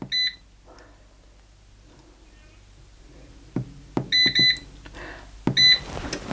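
An air fryer's control panel gives a short run of crisp electronic beeps as its temperature and 30-minute timer are set for chicken korma, sounding close and clear in small clusters and pairs over a quiet kitchen background.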